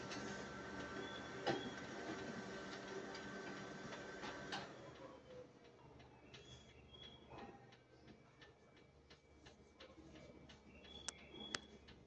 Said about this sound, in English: But now you can see it's printing.